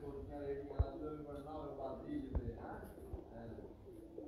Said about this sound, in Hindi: उस्ताद मियां नज़ीर साहब के छोटे भाई जनाब उस्ताद मियां इफ्तिखार साहब के मेन ब्रीडर कबूतर